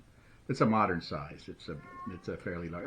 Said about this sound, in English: that's my cat. I don't know what he wants,